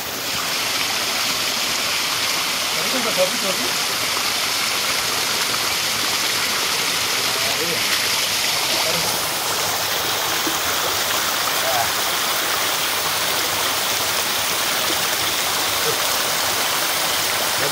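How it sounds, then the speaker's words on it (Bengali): Steady broadband rush of the Sobuj waterfall flowing, a continuous close roar of falling water with no breaks, with faint voices now and then beneath it. "সবুজ ওয়াটারফল সবুজ ঝর্ণা এটা হচ্ছে সবুজ ঝর্ণা"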